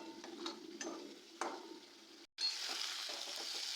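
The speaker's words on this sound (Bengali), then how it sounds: "খুব ভালো করে কষিয়ে নিতে হবে যতক্ষণ না পর্যন্ত কাঁচা গন্ধটা যাচ্ছে" Mutton masala sautéed and stirred in a pan for an onion-free mutton kaliya, with a steady sizzle and soft scraping strokes that break off briefly before the frying hiss returns louder.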